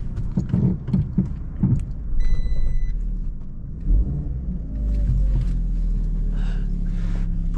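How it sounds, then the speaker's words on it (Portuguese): Fiat 500 being maneuvered into the shade of a tree, with a low engine rumble, a few knocks and clunks early on, a brief whirring mechanism, then a steadier idle that grows louder near the end. "Manobrar o carro aqui"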